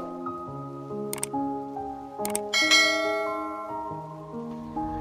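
Notification bell chime playing over a short melodic jingle, with a couple of bright dings and a ringing tone that fades out, clean and close.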